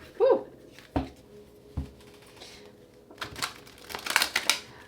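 Tarot cards are shuffled in a few soft, scattered riffles and slaps, with papery crinkles bunching into a busier flurry near the end.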